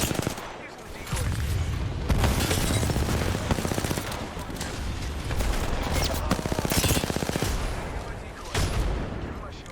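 Automatic weapons fire in the video game Apex Legends rattles in loud, dense, nearly continuous bursts, with rapid repeated shots and a few brief lulls between volleys.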